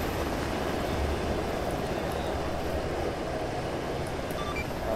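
Helicopter in a military video game, a continuous broad roar of rotor and engine noise at moderate level that holds steady throughout with no breaks.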